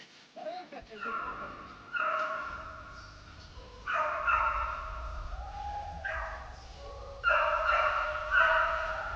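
A hunting dog barks and yelps repeatedly during a communal hunt, bursts of barking coming in several waves at moderate distance, with a low rumble underneath and a voice speaking between the calls.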